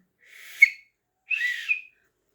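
Two short, shrill whistle blasts, each rising to a brief peak, separated by a moment of silence.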